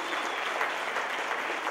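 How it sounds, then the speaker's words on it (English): An elementary school audience at a drum performance claps steadily, a dense, even patter of many hands heard briefly without a break. "Could we give them a round of applause"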